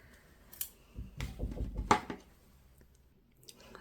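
Scissors cut a piece of cheesecloth in a short, close flurry of soft snips and rustles lasting about a second, followed by quiet.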